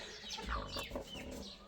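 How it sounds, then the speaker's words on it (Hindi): A hen, mother of a newly hatched black chick, clucks softly in short, irregular calls at close range, with no talk over it. "आपको पता है कौन सी मुर्गी है? ये काले दलक्के की माँ ह"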